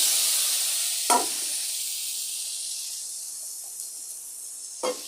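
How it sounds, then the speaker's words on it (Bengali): Spices sizzling in a pan, a bright hiss that starts strong and slowly fades, with two brief scraping knocks of a utensil, close by and without talk. "একটু নেড়ে চেড়ে নেব। এখন মশলাগুলি দিয়ে দিচ্ছি।"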